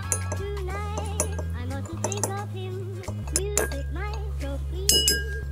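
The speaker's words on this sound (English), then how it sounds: "Stir the hell out of it." A spoon stirs honey into a makeshift syrup in a glass, giving repeated close bright clinks against the glass over a steady low background hum.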